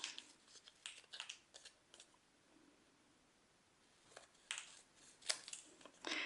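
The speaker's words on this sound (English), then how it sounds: "Then we're just going to trim all these off with our snips." Thin craft snips clip through white cardstock in short bursts of crisp snipping, a cluster early on, a quiet gap, then more cuts near the end, close and fairly soft.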